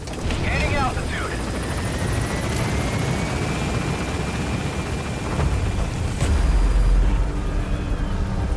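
The Pequod helicopter lifts off from a landing zone in Metal Gear Solid V: The Phantom Pain, a steady, close rotor roar that swells slightly toward the end, with radio speech over it.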